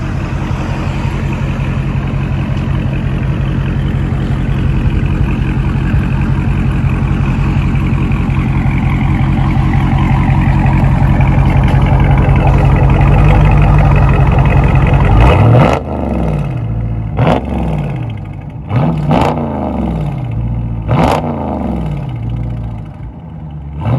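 A 2020 Dodge Charger with a 6.4L 392 HEMI V8 and dual exhaust through Dynomax Race Bullet resonators, a loud close rumbling idle that builds and then breaks into several sharp revs that rise and fall.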